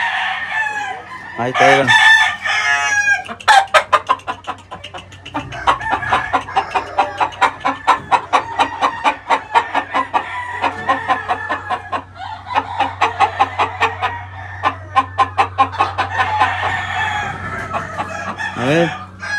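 A rooster clucks in rapid repeated bursts and crows loudly at the start and end, close by in a poultry yard, with a steady low hum underneath and a brief spoken remark.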